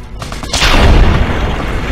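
Loud gunshot in the video game Fallout New Vegas, a sharp boom with a long rumbling tail, close and alone.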